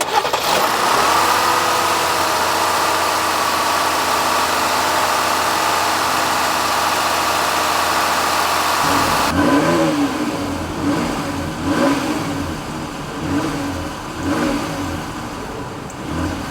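A 2025 Dodge Durango SUV starts up with a loud roar that settles into a steady, strong idle. After a cut, the exhaust revs in several rising and falling bursts, heard close and with no talk.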